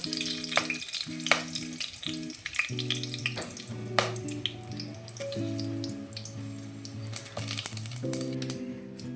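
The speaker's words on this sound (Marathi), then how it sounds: "मी आता कांदा टाकलाय लवकर कांदा फ्राय व्हावा म्हणून थोडं मीठ टाकलंय" Onion frying in oil in a pan with a little salt added, for a soybean vegetable pulao; a steady close sizzle runs throughout with occasional crackles and sharp pops, and a tonal hum sits underneath, with no talk.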